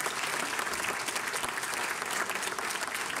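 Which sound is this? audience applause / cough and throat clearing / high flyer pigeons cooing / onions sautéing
audience applause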